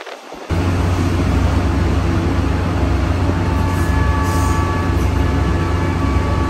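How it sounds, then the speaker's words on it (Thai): Thai local train 415 arriving at Samran station, a loud, steady rumble of wheels and carriages rolling in close by after a brief quiet start, with no talk. "ขบวน415เดินทางมาถึงสถานีสำราญนะครับ"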